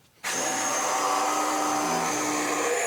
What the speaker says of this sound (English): now to cut this, I'm just going to simply take my jigsaw here